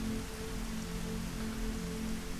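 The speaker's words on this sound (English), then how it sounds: "Oh, and it's raining." Steady rain falling in the video game Dig or Die, a constant even hiss on surfaces with a low hum of game ambience beneath, no talking.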